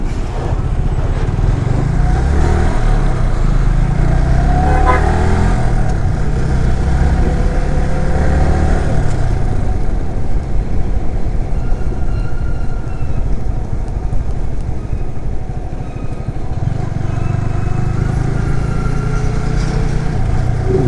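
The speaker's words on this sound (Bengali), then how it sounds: "চলতে চলতে আমি চলে এসেছি ভৈরব টুল প্লাজার সামনে।" Steady road traffic rumble in front of the Bhairab toll plaza, heard from a motorbike: continuous engine drone and wind noise with passing vehicles, loud and close throughout, with no talk.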